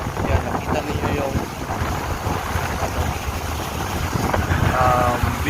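Strong wind buffeting the microphone over rough sea waves at a coastal sanctuary, a loud continuous roar and wash of surf with no talk.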